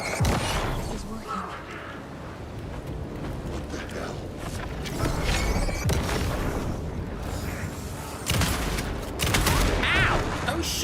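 Gunfire in Alan Wake 2: bursts of shots and heavy booming impacts come in clusters across about eleven seconds, with people talking over and between the volleys.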